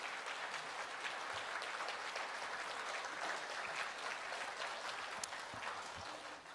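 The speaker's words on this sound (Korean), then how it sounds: "수고한 이들을 위해서 한번 격려의 박수를 한번 해주시기 바랍니다." A church congregation claps for its Zion choir, a sustained, even patter of many hands filling the hall at moderate, slightly distant level, tapering a little toward the end.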